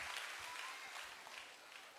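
Hall audience applauding at a political speech event honouring women workers, a steady dense wash of many hands clapping throughout, fairly even and sustained with no voices standing out.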